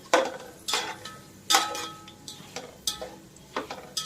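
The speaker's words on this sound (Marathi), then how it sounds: "हा अर्धा चमचा धणे आहेत ते धणे घातलेत मी" Half a spoon of coriander seeds goes into a pan of roasting poha chivda, with a series of light metallic scrapes and clinks of a spoon stirring in a steady, irregular rhythm, close and quiet.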